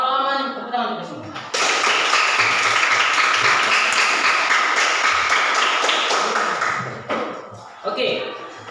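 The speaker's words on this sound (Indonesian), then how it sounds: "Kalau aman, tepuk tangan untuk semua" A classroom of students clapping together during a lesson, a sudden burst of sharp hand claps that holds steady for several seconds, then breaks off, with voices before and after.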